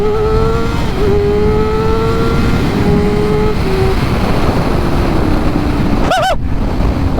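A Kawasaki 6R motorcycle fitted with an aftermarket eBay exhaust revs hard during a pull, its engine note rising and dropping through gears, loud and close, with a sharp high rev burst near the end.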